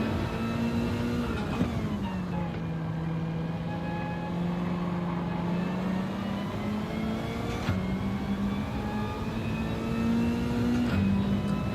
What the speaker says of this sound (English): There's a lot of cars going on here.